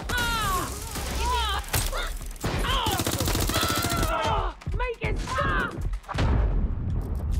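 Rapid gunfire from the Watch Dogs: Legion video game crackles in bursts and single shots amid chaotic game effects and shouts, with a player talking over it.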